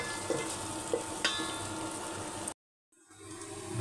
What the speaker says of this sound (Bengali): পেঁয়াজ রসুনটা সুন্দরভাবে ভেজে নিতে হবে লাল লাল করে,